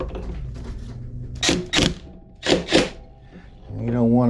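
Air impact gun spun in reverse on the CVT nut of a vehicle being tuned, firing two paired bursts of loud rattling hammering with a brief pause between, close up, over a low background hum.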